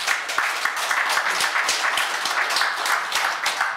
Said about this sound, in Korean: 그분한테 박수 한번 주세요.